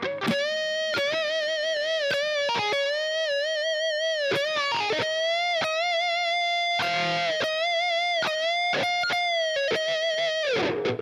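A slow, distorted electric guitar solo, played without wah, with sustained notes, wide bends and occasional quick picked runs, played alone and up close.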